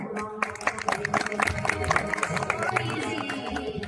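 An audience claps loudly and continuously for a young girl after her speech on stage, with dense crowd applause and a few voices mixed in.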